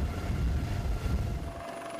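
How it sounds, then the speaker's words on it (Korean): A rescue helicopter hovers over a mountain accident site while lowering a rope, its rotor and engine making a loud, continuous, close droning roar that eases slightly near the end, with no voices. "공중에서 대기 중이던 헬기가 밧줄을 내려보내고 사고 여성을 실어 병원으로 향합니다."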